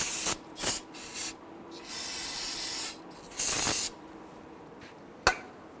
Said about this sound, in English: grab some spray solvent, and we want to clean up any of that residual brake fluid